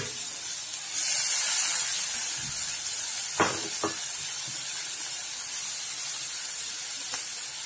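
Chopped chillies, onion and tomato hit hot oil in a pan for misal, giving a steady sizzling hiss with a louder burst early on and a few clatters from stirring, heard alone without talk.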